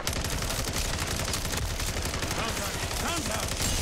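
Dense, continuous gunfire in Call of Duty MWZ, rapid automatic bursts crackling loudly and without pause for the whole stretch.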